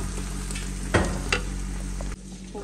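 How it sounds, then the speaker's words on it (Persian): Cooked beans tipped and stirred into a pan of hot fried onions, a steady sizzle with a couple of sharp scraping stirs, then a softer, quieter frying hiss. "حبوبات رو میریزیم تو پیاز داغ"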